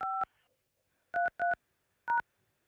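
Telephone keypad tones punch in a meeting number: crisp, clean electronic beeps in short bursts, several grouped in quick pairs with brief pauses between clusters, close and clear with no talking.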